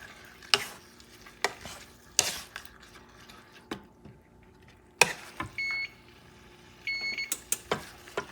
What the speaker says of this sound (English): You start mixing the flavors.